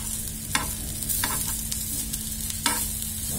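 Stuffed okra (bharwa bhindi) is turned over as it fries in a pan: a low, steady sizzle with a faint hum, broken by several quick scraping flips, no talking.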